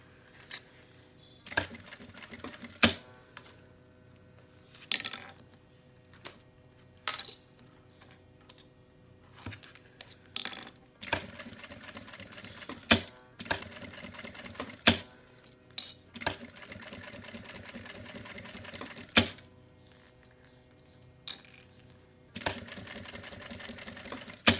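Sewing machine stitching synthetic leather on a vaccine card cover, short bursts of rapid mechanical stitching separated by pauses and small clicks as the work is adjusted.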